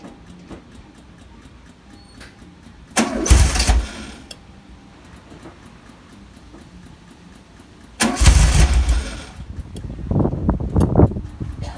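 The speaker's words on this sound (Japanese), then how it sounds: "ちょっとエンジンかけてみますかね。" An air-cooled VW Beetle 1303S engine is cranked twice with loud, close starter bursts and a quiet pause between them. The second attempt is followed by uneven sputtering revs as the engine catches.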